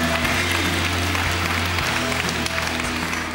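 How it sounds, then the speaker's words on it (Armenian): A studio audience gives sustained, loud applause to welcome a rock band onto a club show, a thick wash of clapping with low musical hum beneath. "ծափարությունները"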